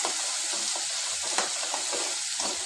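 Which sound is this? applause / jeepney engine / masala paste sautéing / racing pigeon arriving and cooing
masala paste sautéing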